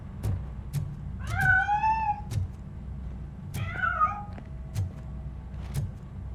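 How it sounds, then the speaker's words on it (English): Cat meowing in the video game Robocop: Rogue City, two drawn-out, rising-and-falling meows close by over a low rumbling game background with scattered faint clicks. "That cat must be hiding inside."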